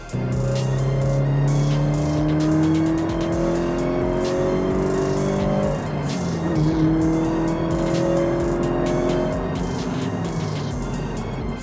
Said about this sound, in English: I'm driving the Toyota GT86 manual high performance model